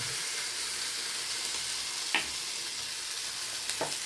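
A little oil sizzles in a pan for a Bengali kakrol (spine gourd) omelette curry, a steady close frying hiss with two brief scraping clicks from a spatula.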